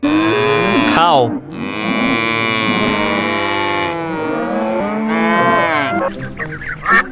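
A cow moos loudly and close in long, drawn-out lowing calls, several bellows following one another with short breaks between them.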